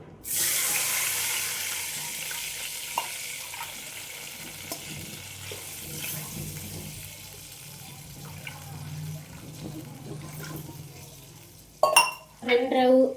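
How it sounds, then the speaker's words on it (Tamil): Water is poured into a hot pan of oil and roasted semolina while making kesari, a steady loud sizzling hiss that slowly eases, with scraping and a few clatters near the end. "அந்த 1 டம்ளருக்கு நம்ம 3 டம்ளர் தண்ணி ஊற்றணும்."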